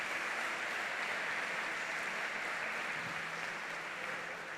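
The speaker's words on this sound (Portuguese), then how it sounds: "E vou pedir que a igreja receba vocês com uma salva de palmas agora" A church congregation applauds visiting guests during a live Sunday service, a steady wash of hand-clapping from many people that stays even and continuous throughout, with no talking.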